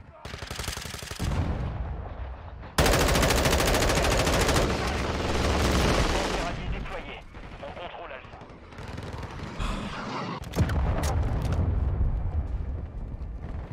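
Machine gun fire in Modern Warfare 2. Long, loud, continuous bursts of automatic fire alternate with shorter volleys and impacts, with French-speaking players talking over the action.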